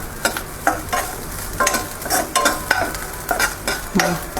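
Barnyard millet roasts in ghee in a pan, with a spoon scraping and stirring in repeated strokes over a soft, steady sizzle.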